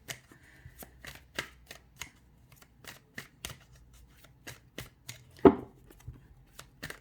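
Tarot-style cards shuffled for a card reading, heard as a series of crisp, soft riffling flicks at an uneven rhythm, close and quiet, with one louder slap of cards near the end.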